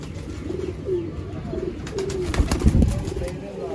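Pigeons coo repeatedly nearby in soft, throaty, rolling calls, with some rustling and flapping as the coos overlap.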